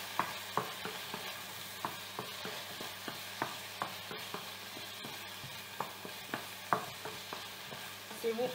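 Escargots simmering in tomato sauce with a soft, quiet bubbling sizzle and regular light stirring taps close by, no talking.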